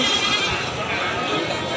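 Goats bleat amid the busy crowd noise of the Pon Ambarawa goat market, with a person talking over the continuous background.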